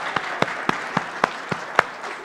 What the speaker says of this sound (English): I think we should give the volunteers a big round of applause today.